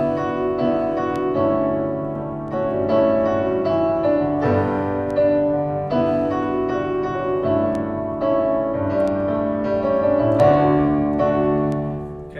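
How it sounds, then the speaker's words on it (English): Computer-generated acoustic piano sound played from a keyboard controller, sustained chords and melody notes ringing steadily and fairly loud throughout, with no voices. "So that's kind of a basic piano sound"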